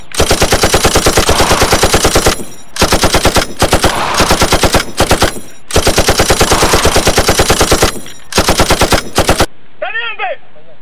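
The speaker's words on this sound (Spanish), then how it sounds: "¡Disparen!" Loud close machine gun bursts in a Dominican film shootout, rapid evenly spaced shots in several long volleys with brief gaps, ending in a quiet tail with a faint voice.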